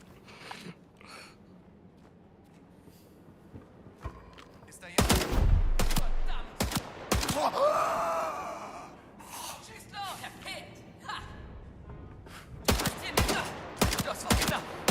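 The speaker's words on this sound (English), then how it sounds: "I have a machine gun now" Bursts of machine gun fire in the action game Indiana Jones and the Golden Circle, with loud rapid volleys midway and sharp shots near the end, mixed with gasps and people talking.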